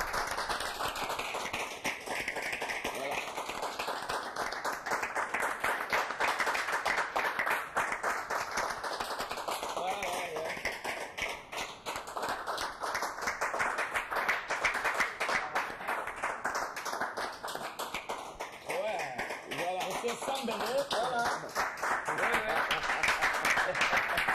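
A studio audience on a French-language talk show applauds a guest, with steady, fairly loud clapping running throughout and a strong sweeping tonal effect layered over it.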